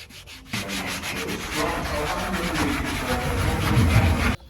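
Steady sanding and rubbing on armoured personnel carrier parts around the mortar hatches during a military vehicle restoration, a continuous close abrasive scrubbing that starts after a brief quiet moment and runs to the end with no talk.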